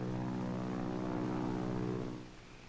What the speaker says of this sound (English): Did you hear a plane?